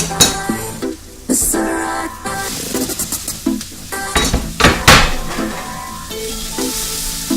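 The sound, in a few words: onions and peppers stirred and frying in a pan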